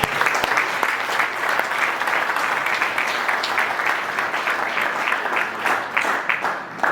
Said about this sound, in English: Give Callan a round of applause.